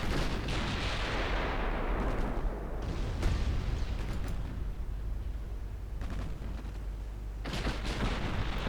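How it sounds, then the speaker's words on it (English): Naval gunfire from 7-inch ship guns in a naval warfare video game, dense rumbling booms and overlapping blasts rolling continuously at high volume, with sharper salvos cutting in several times. "the 7-inch guns here should actually be able to do quite a bit of damage"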